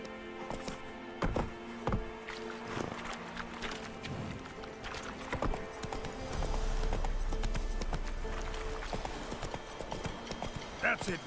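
Roach the horse galloping in The Witcher 3 on PS5, rhythmic clip-clop hoofbeats thudding close, with a low rumble swelling partway through and a brief whinny, while a person talks over it.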